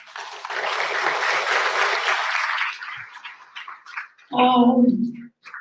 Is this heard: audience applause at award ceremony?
yes